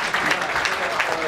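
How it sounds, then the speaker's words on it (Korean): Audience at a Korean clan association general meeting applauding scholarship recipients, a short burst of steady, dense clapping from a roomful of people. "큰 박수로 다시 한번 부탁드립니다."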